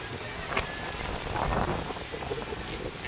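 Steady light rain patters on surfaces, a soft continuous hiss with occasional wind rumble against the microphone.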